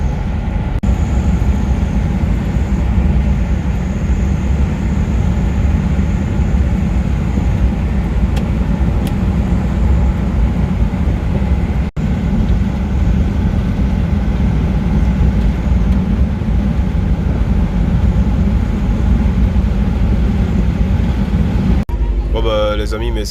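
An older Nissan Patrol runs flat out in fourth gear at about 60 km/h, with a loud, steady engine drone and road rumble filling the cabin without a break.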